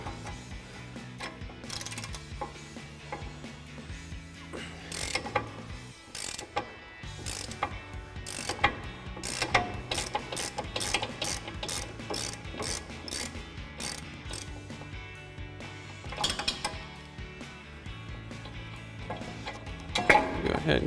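Ratchet clicking steadily in quick bursts as brake caliper bolts are removed from a 2019-2023 Chevrolet Silverado 1500, close and moderately loud, with brief pauses between runs.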